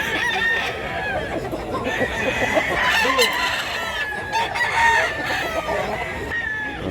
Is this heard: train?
no